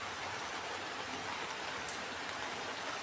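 Heavy rain pours down in a dense, steady roar, continuous and unbroken throughout with no voices.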